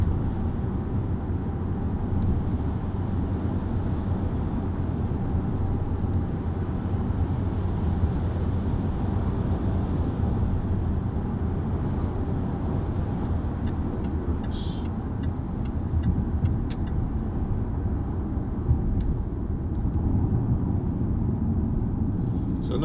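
A 2008 Jaguar XF 2.7 TD diesel saloon cruising on a road, giving a steady low rumble of engine and tyre noise throughout with faint ticks, no talking.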